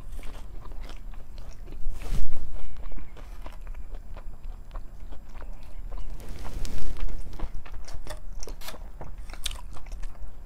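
Fries being bitten and chewed close to the mic, with crunchy bites and soft mouth noises recurring over ten seconds, no talk.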